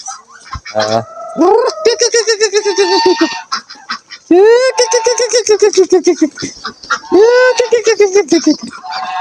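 Domestic ducks honk and quack loudly at feeding time, calling in a near, continuous chorus of repeated nasal cries, with a voice speaking between the calls.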